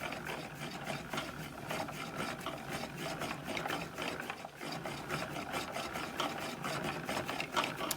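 Knitter's Pride ball winder spinning bamboo yarn, a steady close whirring and rubbing drone with a fast rattling pulse, continuous throughout with a brief dip midway.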